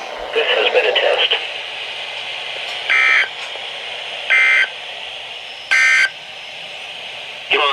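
Emergency Alert System weekly test tones over the radio: a burst of harsh data noise, then three short identical digital bursts at even intervals, loud and clear over a hissy radio background.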